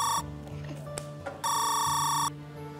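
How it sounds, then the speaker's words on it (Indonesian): An incoming call sets a phone ringing in two loud, sustained electronic bursts separated by a pause, close by, over quiet background music and no talking. "Aduh, ada telepon masuk nih."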